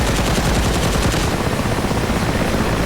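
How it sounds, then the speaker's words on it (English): Sustained rapid machine gun fire from a Mi-8 Hip helicopter in a combat flight game, loud and continuous over the steady drone of the rotor and engines, with no speech. "Holy crap, they are shooting at us."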